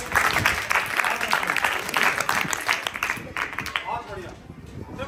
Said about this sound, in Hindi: एक बार ताली बजाओ भाई